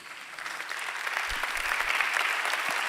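A conference audience applauds in a dense, sustained clatter of many hands that swells slightly over a few seconds, close and loud, with no speech.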